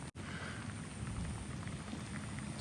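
Steady rain hisses and patters across the whole stretch, a dense continuous wash with a brief dropout near the start and no voices.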